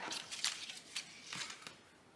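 Paper being cut with scissors for a cut-paper collage of an alien city: a few soft, crisp snips spaced unevenly, close and fairly quiet with no talk.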